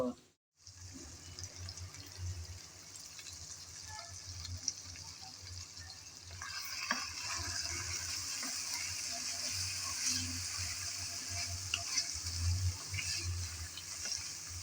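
Spicy chicken frying with garlic in a pan over a very low flame with no water added, giving a steady, moderately quiet sizzle that continues after a brief silent start, with occasional faint clinks.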